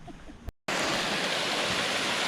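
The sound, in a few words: Peanut Leap Waterfall rushing water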